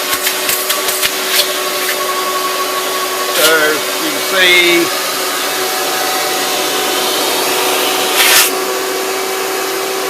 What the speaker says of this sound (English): Okay, so we have a vacuum there.